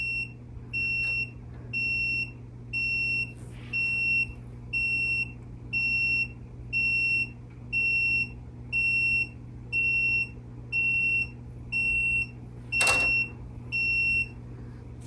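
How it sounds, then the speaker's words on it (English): Let's Resin stand mixer timer alarm sounding a steady series of about eleven evenly spaced high electronic beeps over a low motor hum, with a couple of brief clicks in between. "So a 15-second timer to get your attention."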